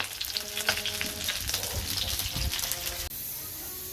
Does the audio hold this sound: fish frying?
yes